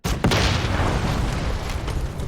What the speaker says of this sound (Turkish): Oğlum direkt patlama ya.